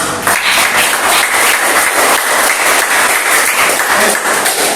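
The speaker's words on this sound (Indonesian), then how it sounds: "Berikan tepuk tangan untuk kelompok 3." Loud, continuous applause from a classroom for a student group's presentation, many hands clapping at once with a faint crowd murmur underneath.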